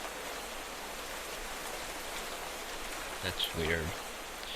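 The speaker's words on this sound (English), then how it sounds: "There's a rain sound again." Steady rain hisses evenly throughout in the game Modded Minecraft, a soft, constant wash of falling drops, and someone speaks briefly over it near the end.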